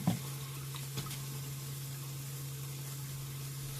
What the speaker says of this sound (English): My onion bhajis are frying